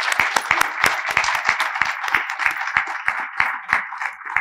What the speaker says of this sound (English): Can we give them all a round of applause for their support?